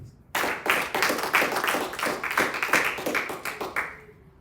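A church congregation claps together after a sermon call for applause, a dense run of hand claps lasting several seconds before tapering off, with no voices over it.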